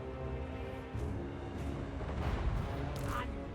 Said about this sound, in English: Blast on in all of our artillery.